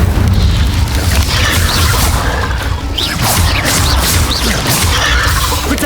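Incendio fire spell being cast in the Hogwarts Legacy video game on PC, heard as a sustained loud roar of booming, crashing and whooshing combat effects with repeated sharp hits over a constant rumble.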